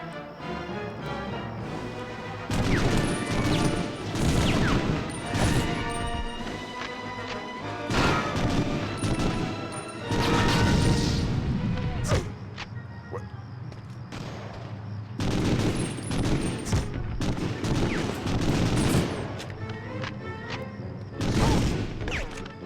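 Gunfire in Medal of Honor: Underground on PS1, with loud bursts of shots and crashes recurring in clusters over a steady background, broken by brief quieter gaps.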